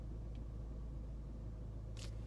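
A car engine rumbles low and steady as the vehicle pulls into a home garage, a quiet, continuous drone with a brief faint click near the end.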